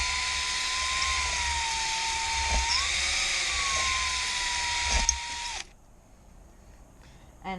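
A drill-driven hone works inside a motorcycle cylinder, giving a loud, steady high-pitched whine whose pitch dips briefly partway through. It cuts off abruptly near the end, leaving near silence.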